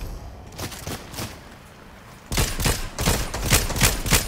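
Fortnite video game gunfire, rapid bursts of repeated shots that start lighter and then turn into louder, denser volleys in the second half, close and punchy.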